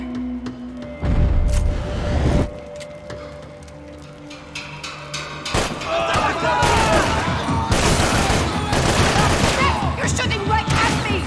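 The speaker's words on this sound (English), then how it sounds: "You're shooting right at me!" Bursts of gunfire and explosive booms in Max Payne 3, loud and dense, coming in clusters after a short lull and continuing almost without a break through the second half, with voices mixed in.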